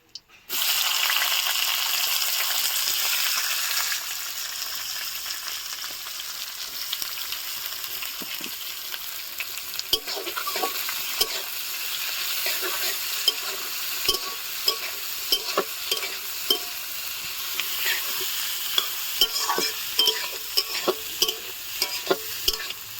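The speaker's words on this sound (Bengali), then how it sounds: "তেলের ওপর তেজপাতা আর গোটা গরম মশলা দিয়ে দেবো আর তার সাথে কুচানো পেঁয়াজ" Bay leaf, whole garam masala and chopped onion hit hot oil with a loud burst of sizzle that settles into a steady fry, while a spatula stirs and scrapes at a quickening pace.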